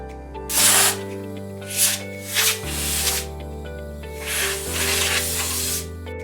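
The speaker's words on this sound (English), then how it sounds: "Use a pneumatic air gun or a cotton cloth to do this." Short blasts of compressed air from a pneumatic air gun cleaning the spool bore of a hand lever hydraulic valve, several hissing bursts over a steady background tone.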